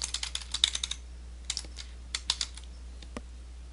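Computer keyboard typing while writing JavaScript code: bursts of crisp, close key clicks in quick uneven runs, with short pauses between groups of keystrokes.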